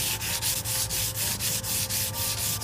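Close, loud sanding on a fiberglass repair, with steady back-and-forth strokes in an even rhythm of about four per second, abrasive scratching alone with no voices.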